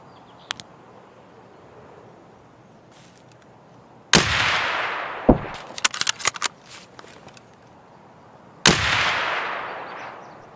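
Two sharp suppressed sniper shots in a video game, the first near four seconds and the second near nine, each a loud crack that fades over a few seconds, with scattered smaller clicks and footsteps between them and no talking.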